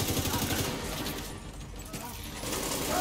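Rapid gunfire bursts in The Division 2 during a raid firefight, dense and continuous across the clip, with a dip in the middle before swelling again, mixed with game effects and faint voices.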